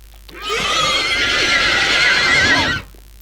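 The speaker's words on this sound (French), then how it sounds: "Il a fait le mélange entre le bruit d'un cheval et autre chose" A creature in the horror video game From the Fog lets out a loud, drawn-out horse-like neigh blended with a stranger warbling cry, lasting about two seconds before cutting off abruptly.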